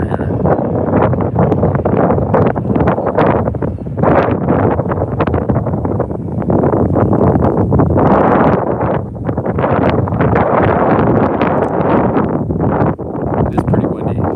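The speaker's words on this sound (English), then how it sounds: "It is pretty windy." Heavy wind buffeting a microphone outdoors at a plane-spotting location, a loud continuous roar and rumble that fills the whole stretch with gusty surges, with a voice talking underneath.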